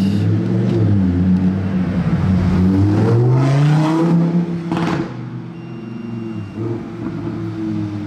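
A blue Bentley Continental GT Speed revs its engine nearby, a loud rising and falling roar with a clear harmonic sweep that fades into a steady idle.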